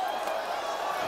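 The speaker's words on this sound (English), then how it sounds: "listen to this crowd in Vegas with a sonorous chant of Fedor" A packed Las Vegas arena crowd at an MMA fight chants Fedor Emelianenko's name, a steady, dense roar of many voices sustained throughout without pause.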